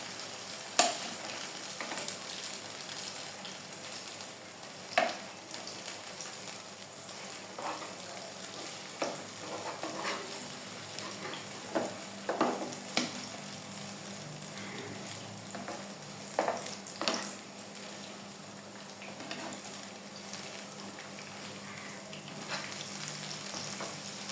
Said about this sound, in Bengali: এই বেগুনিগুলিকে হতে একটু সময় দিতে হবে, যেন দু পিঠই যেন সুন্দর মতো ভাজা হয়ে যায়।